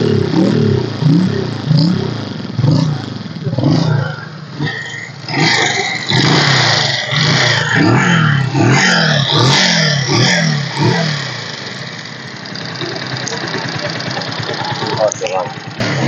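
A used 2013 motorbike engine runs close by with a steady idle and a few revs, while someone talks over it throughout at a roadside bike and scooter market.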